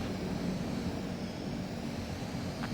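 Fighter jet coming in to land in Ace Combat 7, a continuous loud roaring engine rumble with steady broadband noise and no voices.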